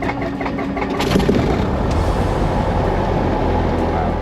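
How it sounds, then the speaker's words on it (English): A small single-engine airplane's engine cranks and catches, swelling into a loud, steady rumbling idle that carries on without voices. "I started up the engine, then taxied over to the runway"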